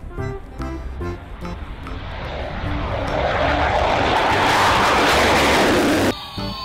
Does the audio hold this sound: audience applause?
no